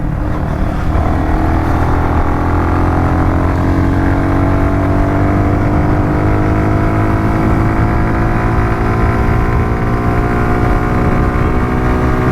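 A motorcycle pulls hard from fourth gear along an empty village road, its engine note rising steadily and continuously as it accelerates, loud and close with no voices.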